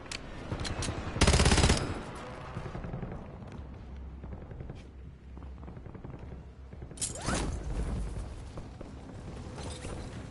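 Weapon being reloaded with a fresh magazine in Call of Duty Warzone: a sharp metallic clack, then a stretch of quieter mechanical handling, and a second loud clatter later on, all set against background game noise.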